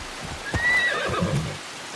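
A summoned horse mount in the video game Assassin's Creed Shadows gives one clear, rising and falling whinny with a soft clip-clop of hooves underneath, close and with no talking.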